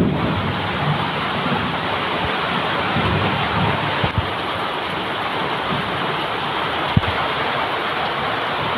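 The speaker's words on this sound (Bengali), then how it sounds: "প্রচুর বৃষ্টি হচ্ছে, সারা রাত ওই বৃষ্টি হয়েছে," Heavy rain pours in a dense, steady roar during a storm with light hail, with a couple of sharp knocks standing out, and no voices.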